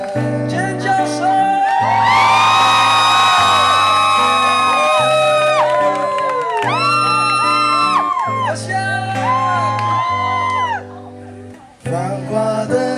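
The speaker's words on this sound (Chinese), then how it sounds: "尖叫声！" A crowd shouts and whoops loudly throughout, the cheering and screaming layered over strong, steady music with sustained tones, continuing at full level before dropping briefly near the end.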